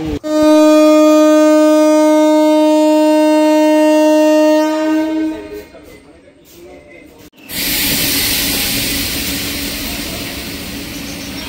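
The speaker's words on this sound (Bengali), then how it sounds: "Amghata halt EMU special ইনগ্রাল special train finally depart করে গেল" A Krishnanagar–Amghata EMU special train on its inaugural run sounds a long, loud, steady horn blast close by, then pulls away with a rising rumble and rolling wheel noise that stays strong to the end.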